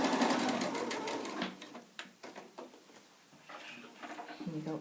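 A sewing machine stitches the edges of a fabric tote bag, a loud rapid whirring run that breaks into short intermittent bursts, with a person talking over it.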